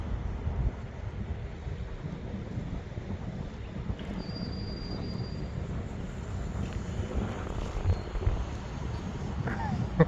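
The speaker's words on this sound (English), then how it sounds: "Yeah, it's way too windy for this little thing" Gusty outdoor wind buffets the microphone in a steady low rumble while a small remote-control P-51D Mustang model plane is flown, the hum continuing throughout.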